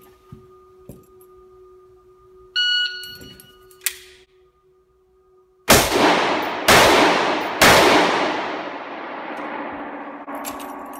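Three sharp rifle shots on an outdoor range, each followed by a ringing metallic clang from steel targets, spaced about a second apart and loud, with a long decaying ring; faint clicks and a brief ding precede them.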